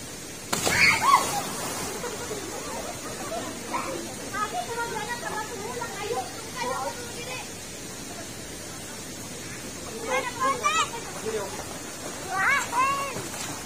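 Steady hiss of falling water from a small cascade, with people talking intermittently over it.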